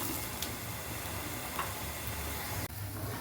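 Grated coconut sizzles and crackles steadily in a pan on a gas stove while it roasts for a Kerala theeyal, a close, continuous frying hiss with faint ticks and no voices.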